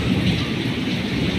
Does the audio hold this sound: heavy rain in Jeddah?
yes